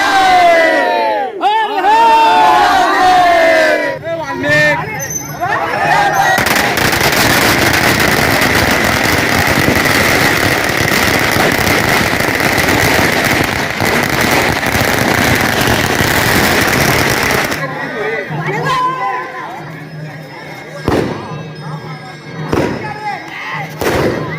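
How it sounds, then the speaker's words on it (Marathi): Firecrackers bursting at a night village celebration: a dense, loud, sustained crackle of rapid explosions lasting over ten seconds, preceded and followed by scattered bangs and crowd noise. "आनंद उत्सव बनवलेला आहे फटाके फोडलेले आहे"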